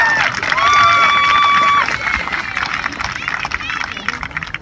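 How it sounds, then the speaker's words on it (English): A school graduation crowd applauds and cheers for the parents, a loud burst of clapping and voices filling the hall, with a sustained tone over it early on before the clapping thins out. "Students, give your parents a round of applause right now."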